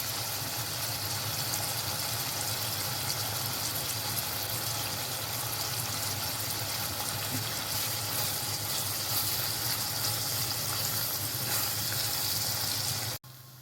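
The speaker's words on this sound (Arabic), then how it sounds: "بعد ما السجق يبدأ يغير لونه نبدأ ننزل بالبصل" Alexandrian sausage and onions fry in a pan with a loud, even sizzle that holds steady, close and unbroken, then cuts off abruptly at the end.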